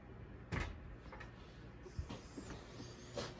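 A barn door is opened, producing a few quiet knocks and rattling clunks spaced across a few seconds, with faint scraping in between, close and soft with no speech.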